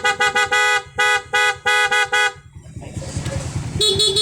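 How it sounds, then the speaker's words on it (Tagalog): Dual-tone SENLO M1 contact horn fitted to a Honda Click 160 scooter, sounding in a rapid series of loud, close honks, short toots followed by longer blasts, then giving way to engine rumble and traffic noise with a final horn swell. "Loud horn."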